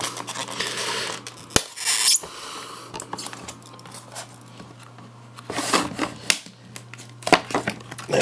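Sellotape being peeled and torn away from the packaging of a Hornby Thomas and Friends model train, close crinkling and scraping bursts with pauses between pulls over a faint steady hum.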